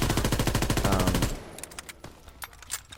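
Unsuppressed gunfire in Call of Duty WWII plays as a rapid burst of automatic shots for over a second, followed by scattered single shots and clicks.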